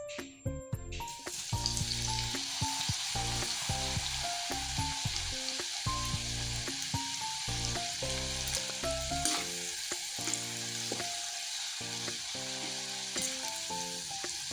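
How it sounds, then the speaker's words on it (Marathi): Noodles coated in cornflour deep-fry in hot oil until crisp, for a veg manchow soup; a steady, dense sizzle runs throughout beneath background music. "ते तळून घेऊया हे नूडल्स"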